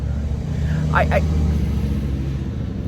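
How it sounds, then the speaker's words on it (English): A truck passes on a road outdoors with a constant low engine rumble that swells gently and fades, loud and close, heard alone with no talking over it. "Trucks always come by when I try to record out here."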